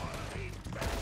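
Gunshots from a Red Dead Redemption 2 gunfight, a short burst of dense firing and reports with a louder blast near the end, all within about a second.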